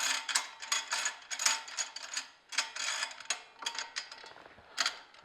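Metal nuts on the holding rods of an Angel juicer being turned and adjusted by hand, a quiet run of clicking, scraping and ratcheting bursts in an irregular rhythm, close up with no talking.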